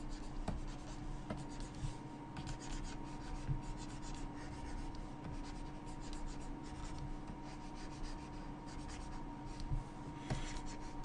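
A pencil scratches and rubs across paper while sketching cubes, a steady close scraping texture with short strokes throughout, no voices.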